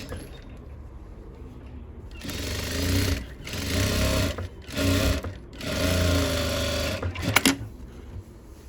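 A sewing machine stitches pattupavadai fabric in several bursts of steady, fast needle chatter, separated by short pauses, with a brief sharp click near the end; no one speaks.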